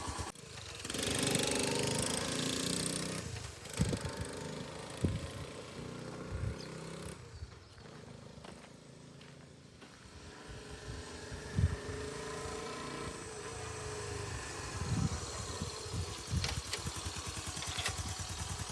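An engine fitted with a replacement piston runs steadily as it is taken for a spin up the road, a continuous rough drone that rises and falls in pitch and level for the whole stretch, with no voices over it.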